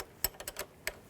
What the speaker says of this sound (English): Now you can take the positive cable off the same way using the 10mm wrench.